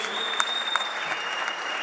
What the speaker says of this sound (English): let's get a round of applause for these guys.